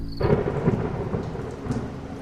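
A thunderstorm sound effect in a Hindi horror story: a steady wash of heavy rain with deep rolling thunder rumbling through, loud and continuous without any speech.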